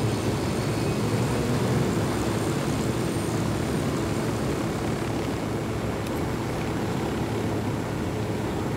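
An aircraft flies in Ghost Recon Wildlands with a steady, loud engine drone that stays constant and close throughout, with no talking over it.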